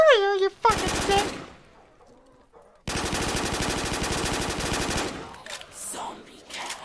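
Gunfire from guns in a zombie video game, two long sustained machine-gun bursts, loud and close, separated by a quiet gap, with a high swooping electronic tone at the start and scattered effects at the end.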